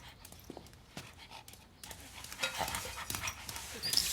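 A dog pants close by in quick, breathy bursts that grow busier toward the end, with faint background noise and no clear talk.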